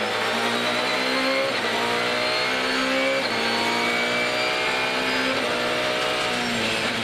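Supercar Challenge race cars at Spa Francorchamps roar past with engines revving through repeated upshifts, loud and continuous, in a sustained racing blare.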